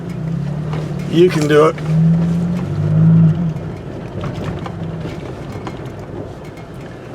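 Engine of a 2019 Toyota Tacoma TRD Pro grinding along an off-road trail in two-wheel drive, a low steady drone with a couple of heavier surges while people talk and urge the truck on over it.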